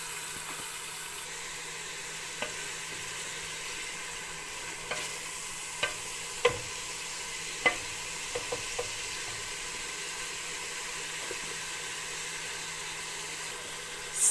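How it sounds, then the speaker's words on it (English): Salted bacon frying and crisping in a pot for minestrone soup, a quiet steady sizzle with scattered pops and occasional utensil clicks, close and alone without talk. "That'll help draw out the moisture in the bacon and help it fry and crisp up"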